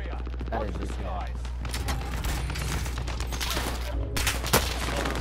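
Sustained rapid gunfire in the video game Call of Duty: Modern Warfare, dense automatic bursts over a low rumbling background with a sharper shot near the end, close and loud.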